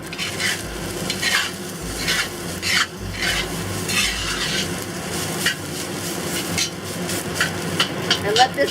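Black bean dace fried rice is tossed in a hot pan, giving repeated scraping, shuffling strokes with a soft sizzle underneath, in a close, steady rhythm.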